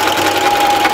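Close, loud sewing machine stitching fabric for a baby bib-apron, a rapid steady mechanical whir running continuously through the moment with no talk.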